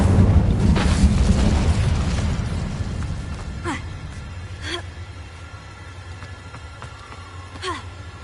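Incendio fire spell cast in Hogwarts Legacy, a loud roaring whoosh of flame that swells at the start and rumbles on for several seconds, trailing into quieter crackles and scattered swishing effects.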